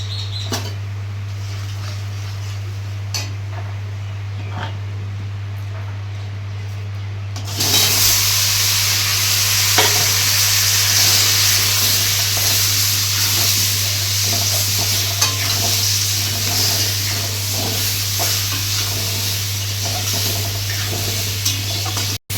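A bay leaf and turmeric hit hot oil for mango chutney, starting as a quiet background with a low hum, then bursting into a loud, steady sizzle with light stirring taps.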